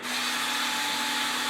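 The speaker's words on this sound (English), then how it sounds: "These are a Walmart drill." Cheap Walmart cordless drill runs steadily at full speed, a close, even high-pitched whir with a constant motor whine and no pauses, used during a twin 50mm EDF Su-27 model build.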